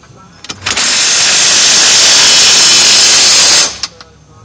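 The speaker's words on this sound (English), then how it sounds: "Go ahead and tighten the left side bolt down." A power tool tightening bolts on a winch mount for a Honda Rubicon KFI ATV, one loud continuous whirring burst of about three seconds, close up, with brief clicks before and after.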